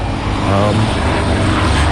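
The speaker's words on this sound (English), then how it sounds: "There's a helicopter hovering" A helicopter hovers nearby, giving a steady, loud, continuous rotor and engine drone with no clear breaks.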